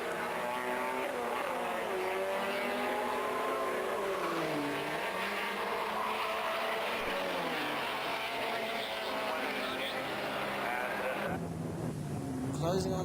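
Production saloon cars from a 1988 championship round race at Brands Hatch as they run three abreast towards Druids. Several engines roar together continuously, rising and falling in pitch as they pass, under steady commentary.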